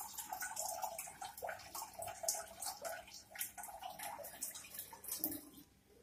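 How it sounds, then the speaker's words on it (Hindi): Three large cups of water pour into a cooking pot to boil gatta, a splashing, gurgling stream with uneven surges that tapers off near the end. "यहाँ पे मैं 3 बड़े कप पानी डाल रही हूँ।"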